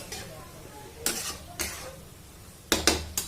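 Ridge gourd curry being stirred up and down in a pan over a medium flame, with a few short scraping and clinking strokes of a spoon against the pan over a quiet background.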